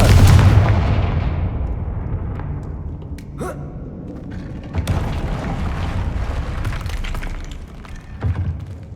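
Confringo fire spell explosions in Hogwarts Legacy on PC, heard as loud booming blasts with rumbling decay and several further impact bursts in quick succession.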